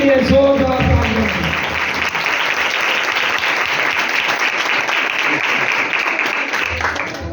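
A church congregation claps loudly through a sermon, with dense steady applause holding for about seven seconds. Brief voiced sound can be heard near the start, and the clapping fades slightly at the end.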